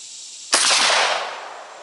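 Shotgun firing a slug at a 100-yard range, a single sharp loud blast half a second in, followed by a fading open-air rumble and echo.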